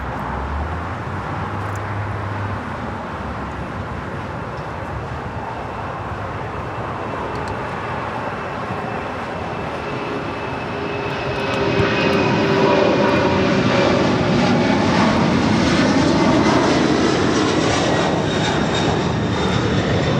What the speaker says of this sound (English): we got the Moss Air Cargo 767 now rolling down